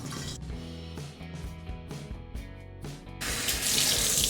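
Tap water runs steadily into a sink while makeup brushes and sponges are rinsed clean, a continuous splashing stream that swells louder and brighter toward the end, with no voices over it.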